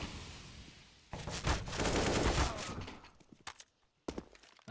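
Rifle fire from a Counter-Strike match on the Inferno map: a loud burst of rapid automatic shots, followed by a few sharp isolated gunshots separated by brief quiet gaps.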